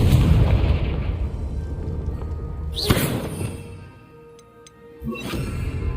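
Bombarda and Confringo spells in Hogwarts Legacy burst as loud booming explosions: a heavy rumbling blast at the start, a sharp crack with a rising whoosh near three seconds, then a quieter lull before another blast rumbles on.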